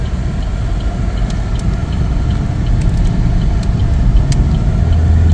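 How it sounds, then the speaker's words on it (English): A 2017 Chevrolet Equinox LT on a test drive gives off a loud, steady cabin drone of engine and road noise, with faint ticks over it and a slight swell toward the end. "Take it for a test drive here. We already have it in gear."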